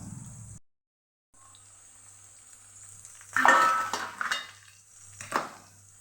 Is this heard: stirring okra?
yes